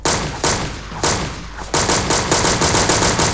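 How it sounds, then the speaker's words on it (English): Rapid bursts of gunfire from a blocky, Minecraft-style shooter video game, loud and close, with several spaced shots early and then a quick continuous volley crackling through the end. "I'm getting shot at"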